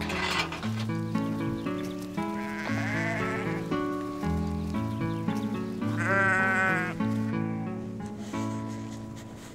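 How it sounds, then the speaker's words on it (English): A sheep on a Scottish farm in winter bleats with a wavering, vibrato cry a couple of times, set against steady melodic music that plays throughout. "We help Dad feed the sheep."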